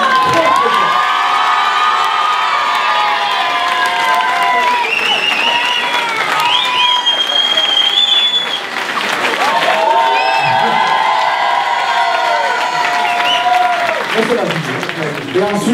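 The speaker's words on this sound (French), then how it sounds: "je crois qu'on peut l'applaudir" A crowd at a town hall ceremony in Isola honouring local sports champions applauds loudly, with cheering, whoops and children's shouts rising over the clapping, sustained and close throughout.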